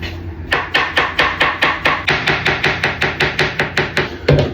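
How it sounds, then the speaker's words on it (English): Mushrooms being chopped with a knife on a board, about sixteen quick, even strokes in a steady rhythm, close and crisp with no talking. "Now you can chop this however you want."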